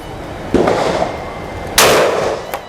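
A Hunt Group MX2 semi-automatic shotgun with an 18-inch barrel fires two sharp, loud blasts outdoors about a second apart, each with a short echoing tail, and a lighter click comes near the end.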